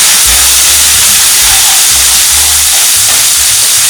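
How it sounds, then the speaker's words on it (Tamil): Capsicum, onion and carrot stir-frying in a hot pan, a loud, dense, steady hiss with faint scraping underneath that fills the whole moment and has no voice over it. "குடமிளகா, வெங்காயம், கேரட் எல்லாத்தையும் ஒன்று போட்டுடுங்க."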